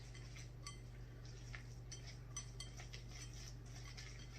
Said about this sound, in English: Okay, mix it around.